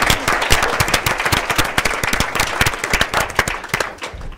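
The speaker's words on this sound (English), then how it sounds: "Give Anny Donewald a nice round of applause." An audience gives a round of applause for a speaker at an event, a loud, close burst of many hands with sharp individual claps standing out, sustained and fairly even before tapering slightly at the end.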